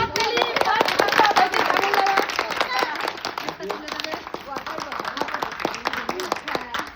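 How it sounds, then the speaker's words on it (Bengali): A group clapping for the first-place winner at an outdoor gathering in the Sundarbans, with steady hand claps running throughout and voices talking over them. "ওনার জন্য জোরে একটা হাততালি।"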